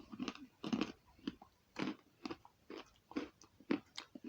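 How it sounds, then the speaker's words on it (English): Close, quiet crunching as a biscuit is bitten and chewed, a series of irregular crisp crunches with short pauses between. "Very interesting crunch and bite there."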